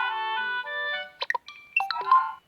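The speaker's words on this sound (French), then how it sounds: "on dirait que tu viens de recevoir une notification de la part de Nintendo" A Nintendo notification chime in the Miitomo game: a sustained electronic tone followed by a quick string of bright plucked and popping blips, clear and alone with no talking.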